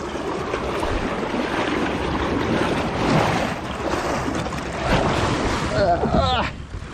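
River water rushes steadily around a paddled kayak on a smallmouth fishing trip, a continuous broadband wash mixed with wind buffeting the microphone, loud and close throughout.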